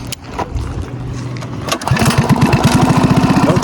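A mini bike's small engine sputters to life partway through, then settles into a steady, rapid putter, loud and close, after a brief earlier cranking attempt.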